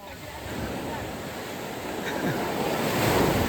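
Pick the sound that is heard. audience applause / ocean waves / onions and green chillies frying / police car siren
ocean waves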